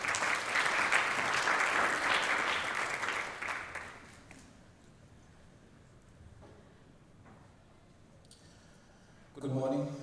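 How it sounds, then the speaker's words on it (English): Audience applause at a G20 symposium on financial inclusion, a fairly loud wash of clapping for about four seconds that then fades out, leaving quiet room tone before a sudden short noise at the end. "A round of applause as he comes up"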